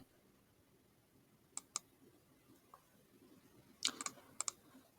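Computer mouse clicks at a desk, a few faint, sharp, isolated clicks scattered over a quiet room tone, some in quick pairs, with no talk.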